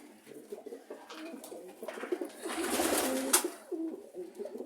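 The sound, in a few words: pigeons cooing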